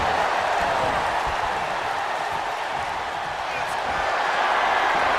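A wrestling arena crowd cheers in a steady, broad roar that fills the whole stretch, with a commentator's voice heard over it.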